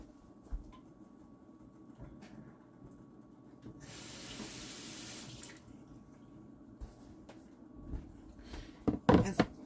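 Kitchen tap runs briefly as an onion-juice-covered item is rinsed in a sink, a soft steady hiss of water for about a second and a half amid quiet clatter, followed by a few louder knocks and handling sounds.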